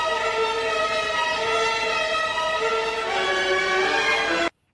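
Eerie film score music from Rambo: First Blood, from the scene of hanging over the cliff: steady, sustained layered tones that hold loud and even, then cut off abruptly near the end.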